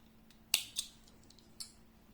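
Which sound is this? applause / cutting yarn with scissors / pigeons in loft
cutting yarn with scissors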